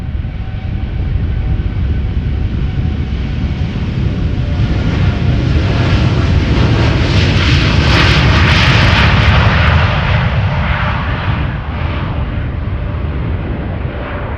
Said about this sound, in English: So this Dreamliner KLM flight 695 is a 7879 Dreamliner